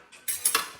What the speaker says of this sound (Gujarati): મમ્મી હવે વઘાર કરે છે